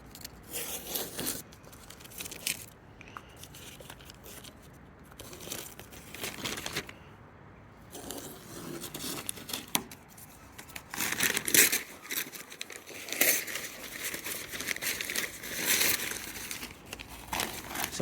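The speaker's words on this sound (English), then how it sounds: "I'm just peeling it off." Protective film being peeled off a part during a Mitsubishi GTO update, giving a long stretch of quiet crinkling, crackling and tearing sounds with irregular bursts, close to the listener and without talk.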